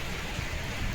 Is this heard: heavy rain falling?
yes